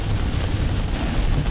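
Rain falling with thunder, a dense, steady wash of noise with a low rumble underneath, loud and continuous without any voices.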